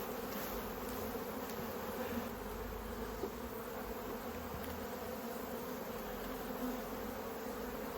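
Honey bees drone steadily around an open hive during an inspection, a soft, continuous buzzing hum that stays even and fairly faint throughout, with no voices.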